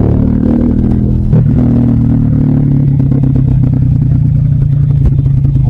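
A motorcycle engine idles loud and close with an open pipe exhaust and muffler, a steady low rumble with a brief throttle blip near the start, running alone without talk.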